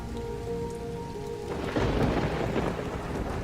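Heavy rain pours steadily with thunder rumbling, a low roll building and swelling louder about halfway through, with no voices present.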